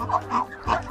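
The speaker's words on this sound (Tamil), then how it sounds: "இதுதான் ஃபஸ்ட் டைம் நான் வந்து சேவல் சண்டை பார்க்குறது" Roosters at a cockfight give short clucking and squawking bursts, three quick calls in under a second, moderately close.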